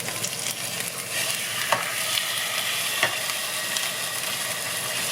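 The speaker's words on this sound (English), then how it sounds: "I just need to focus on cooking this fish. Looks like it's already breaking because it's already cooked on the side. Flip it." Trout fillet fries in a pan with a loud, dense, steady sizzle and crackle, broken by a couple of faint scraping taps from a utensil.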